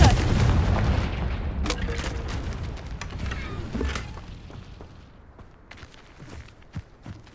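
Confringo fire spell blasts in the video game Hogwarts Legacy: a loud rumbling boom up front, then scattered sharper cracks and thuds fading through the rest, with no talk.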